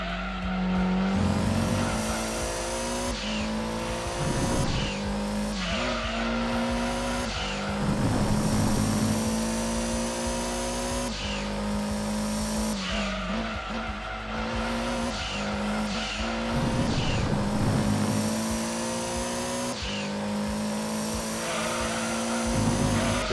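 A race car in Gran Turismo 2 on PS1 laps Laguna Seca Speedway in an endurance race, understeering on yellow tires. Its engine drones loud and steady throughout, with tires squealing through the corners.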